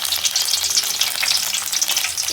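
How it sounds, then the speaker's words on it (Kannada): Curry leaves fry in hot oil for a tempering, crackling and spitting loudly in a dense, continuous sizzle of rapid pops close to the pan. "ಚಟಪಟ ಚಟಪಟ ಅಂತಿದೆ."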